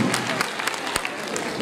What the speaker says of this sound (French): Je vous demande tous et toutes d'applaudir très très fort Harouna Sangaré.